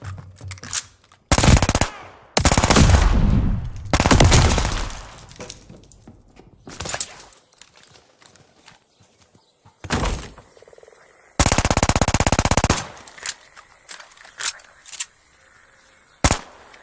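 Machine pistol fire in Call of Duty: Vanguard comes in loud rapid bursts of a second or so, separated by quiet stretches that hold reload clicks and handling noises.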